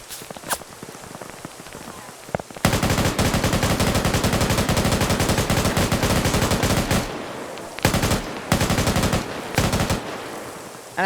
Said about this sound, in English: I think all of his rounds went into here and ricocheted off to the side.